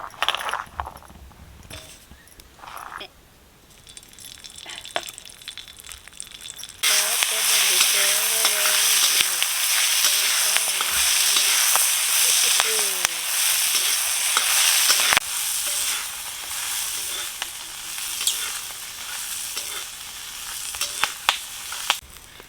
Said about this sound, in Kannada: ಈಗ ಹಚ್ಚು ಮೆಣಸಿಕಾಯಿ ಹಾಕಿ ಹುರಿಬೇಕು